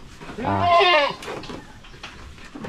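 A goat gives one loud, wavering bleat up close, followed by quieter rustling and soft background noise.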